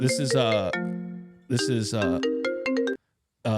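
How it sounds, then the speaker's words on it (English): A phone ringtone plays an incoming-call melody in bright chiming bursts, with a pause between two loud rings and a brief third ring at the end, clear and close. "Shit, we're getting phone calls?"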